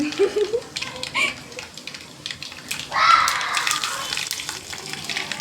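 Garlic and urad dal tempering in hot oil, sputtering and crackling in short bursts that swell into a louder sizzle midway, with people talking nearby over the frying.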